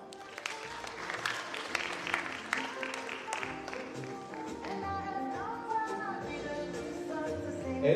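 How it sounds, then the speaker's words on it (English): An audience at an international relations and diplomacy career forum claps steadily through an awards presentation, a dense run of close, sharp hand claps that holds at a constant level throughout. "Clap for her."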